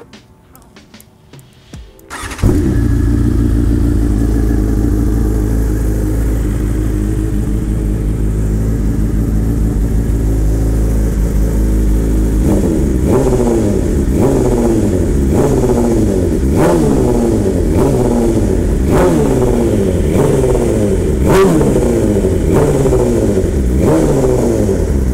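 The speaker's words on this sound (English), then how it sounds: "Let me start this bike off so that you guys can hear it." A BMW S1000RR motorcycle engine, black and red, starts with a sharp catch and settles into a loud steady idle close by, then a series of quick throttle blips rise and fall in regular revs.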